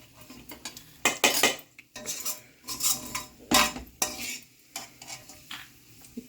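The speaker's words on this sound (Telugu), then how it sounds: "ఈ ఉల్లిపాయలన్నీ తీసుకుని ఇందులో వేసేసుకుందాం" Chopped onions tipped into a pan of mushroom dum paste and stirred with a metal spoon, giving repeated scraping clinks and soft sizzling in uneven bursts, close and fairly loud, with no talking.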